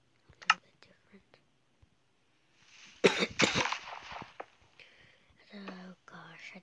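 A person with a stuffy nose coughs twice in quick succession, close and fairly loud, with soft breathy whispering and small mouth noises before and after.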